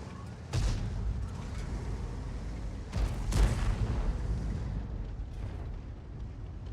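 Tank cannon fire in a tank combat video game, a couple of heavy booming shots with a rumbling tail over a constant low engine drone, no talking.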